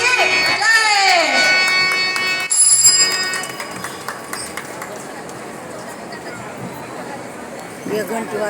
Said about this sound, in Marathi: एक घंटी वाजली आज अजून टाइम आहे ना